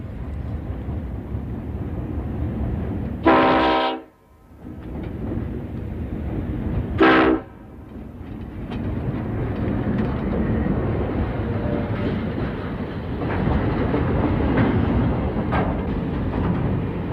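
A weekly train pulling into the remote outback town of Marree sounds two loud horn blasts a few seconds apart over a steady rumble of rolling wagons that continues after the horns.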